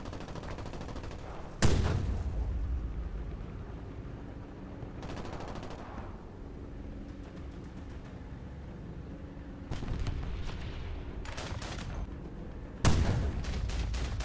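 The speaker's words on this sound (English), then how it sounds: "We're actually treating this 20 millimeter cannon like a single shot" A 20 millimeter cannon in a video game booms out in four or five separate heavy single shots spaced seconds apart, each a sharp loud blast trailing off into a rumbling tail, with no voices.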